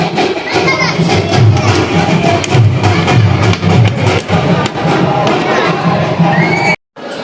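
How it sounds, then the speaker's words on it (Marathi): A large crowd of pilgrims queuing at the Akkalkot Swami Samarth temple makes a dense, steady murmur of many voices with occasional shouts and children's cries, loud and close throughout, cutting out briefly near the end. "आतमध्ये काय गर्दी आहे बघा"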